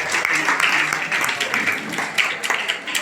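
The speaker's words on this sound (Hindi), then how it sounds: "ताली जोरदार" Applause from a jewellers' community gathering in Agra, a dense steady patter of clapping with brief louder bursts, mixed with background murmur and some voices through the full stretch.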